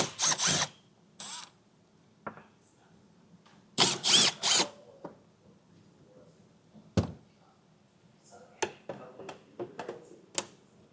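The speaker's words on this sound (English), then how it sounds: "Each side will have 4 Phillips screws holding it in. So get those removed." Power tool backing out Phillips screws from a 2018 Kia Soul tail light, several short bursts of whirring drill noise separated by quiet pauses, plus small clicks and handling knocks at close range.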